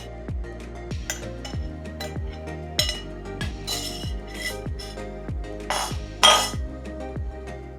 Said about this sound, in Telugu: ఇది ఫస్ట్ ఎండుమిర్చి, పచ్చిమిర్చి దంచేసుకోవాలి